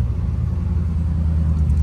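A Dodge Hellcat driving with its doors removed and making a turn, its engine a steady, close, low rumble that holds even throughout with no pauses.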